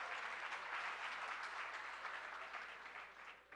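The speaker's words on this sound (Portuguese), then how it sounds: "Eu espero que os aplausos sejam para a boa performance erótica" An audience at a student conference lecture breaks into steady, dense applause that holds evenly, with no talking over it, and fades slightly toward the end.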